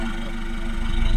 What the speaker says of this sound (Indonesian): Cek dulu suara knalpotnya.